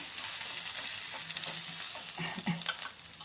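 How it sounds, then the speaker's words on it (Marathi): Chopped onion roasting in oil in a pan for stuffed brinjal, a steady close sizzle with soft stirring scrapes and brief spatter pops throughout, no voices. "हा कांदा थोडा भाजला आहे"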